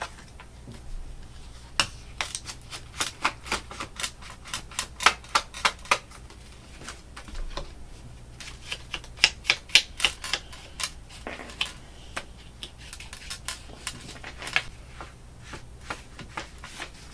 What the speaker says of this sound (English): hit the edge to knock the white core of the paper off